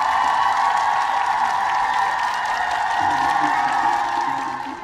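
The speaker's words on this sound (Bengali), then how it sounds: "সঙ্গে সঙ্গে করতালির ঝড় উঠল" A large audience breaks into sustained, dense applause at an evening wedding announcement during Durga Puja festivities, a steady roar of clapping that holds for several seconds before easing off.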